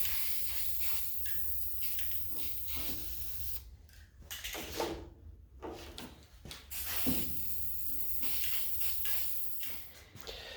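A steady hiss of aerosol spray paint on the rust-repaired metal firewall of a square-body Chevy truck, with uneven bursts and short pauses, close by, over faint background noise.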